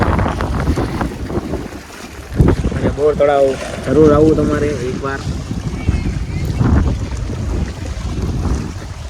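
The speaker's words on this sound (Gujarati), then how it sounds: "અને મસ્ત ઘણો પવન આવે છે, વાતાવરણ મસ્ત ઘણું છે." Strong wind at Gol Talav lake in Bhavnagar buffets the microphone in a continuous rough roar while someone talks over it throughout.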